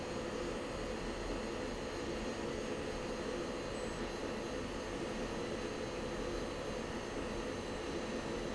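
An F-16 jet inbound for landing in the Falcon BMS flight simulator, a steady, continuous roar of engine noise holding evenly throughout with no pauses.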